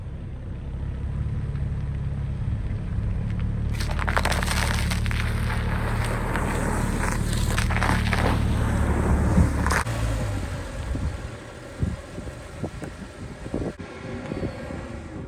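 A BMW 335i engine idles at operating temperature after a repair, a steady low rumble running throughout with brief mechanical clicks and knocks over it near the end.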